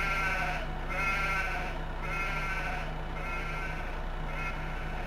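Sheep and lambs bleating in the farming video game Farming Simulator 15, a flock calling in overlapping, repeated bleats at a steady rhythm, loud and close, with no talking.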